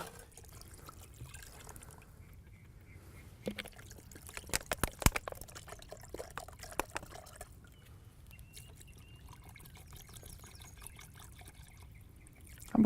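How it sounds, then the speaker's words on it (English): Water pouring and trickling into a cast iron pot at a charcoal campfire, quiet and close, with a few soft clinks partway through. "And then we're gonna put the rest of the water."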